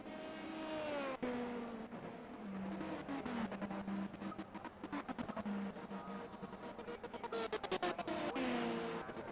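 LMP2 prototype race car engine in iRacing at Barcelona, a steady high revving drone with rising and falling pitch through gear changes, joined by busier rasping engine notes from other cars in the latter half.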